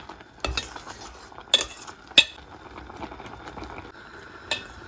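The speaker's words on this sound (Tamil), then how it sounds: "இப்போ நாங்கள் கொஞ்சம் மஞ்சத்தூள் சேர்க்க போகிறேன். கொஞ்சம் சேர்ப்போம். இப்போ பிரட்டி விடுவோம்." Capsicum curry with turmeric being stirred in a pan: a spoon scrapes and clinks against the metal in a few sharp taps over a soft steady sizzle, close by with no talking.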